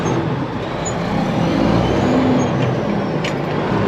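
A truck engine rumbles loudly and continuously from inside the cab, its low drone shifting slightly as it runs through the gears, with no talking.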